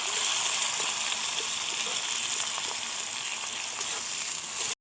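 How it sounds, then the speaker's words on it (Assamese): Chopped onions fry in hot oil in a pan for a chicken curry, giving a steady, loud, close sizzle that runs unbroken until a brief cutoff at the very end. "পিঁয়াজখিনি ৰঙচুৱা হোৱালৈকে আমি ইয়াক ভাজিম।"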